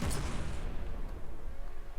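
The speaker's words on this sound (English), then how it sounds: "Yeah, continued explosions there." Explosions go off in a video game, a burst opening with a heavy boom and then a rolling, rumbling decay, loud and close.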